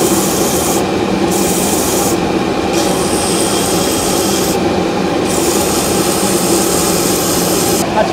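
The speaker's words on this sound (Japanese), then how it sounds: "この銀が全部触れるまで斜めに削っていきます" A knife blade is ground at an angle to form an octagonal shape in a Japanese knife workshop, a loud, continuous rasping grind that runs steadily throughout, with brief dips in the high hiss as the blade shifts.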